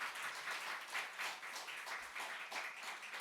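Congregation clapping in a church, a steady, faint ripple of applause running throughout without a break.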